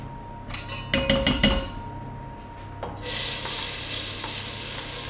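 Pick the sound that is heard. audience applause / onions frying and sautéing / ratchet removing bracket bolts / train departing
onions frying and sautéing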